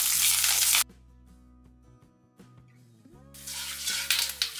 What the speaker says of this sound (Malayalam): ഇതിലേക്ക് നമുക്ക് കറിവേപ്പിലയും കൂടെ ഇട്ട് കൊടുക്കാം. ഇതൊന്ന് മൂപ്പിച്ചെടുക്കാം.